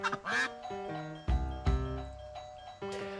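A series of electronic chime tones rings out in a melodic pattern, with a few low thumps between, fairly loud and close.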